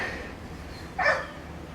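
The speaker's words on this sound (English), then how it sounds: "And those dogs, man." Dogs barking nearby outdoors beside a workshop where a VW Beetle with a Weber 34 ICT carburettor is being tuned: a single short burst of barking rising briefly out of a quiet, steady background, with no talk.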